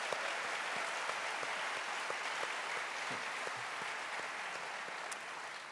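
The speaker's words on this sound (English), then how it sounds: "You can applaud Beacon for that." Faint, distant audience applause at an organizational meeting, a steady wash of many hands clapping at low level with no talk over it.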